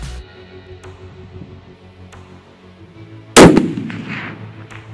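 A single loud, close report from a 300 Norma Magnum precision rifle firing at a target 1800 yards away, a sharp blast that tails off in a rolling echo over quiet open-air background.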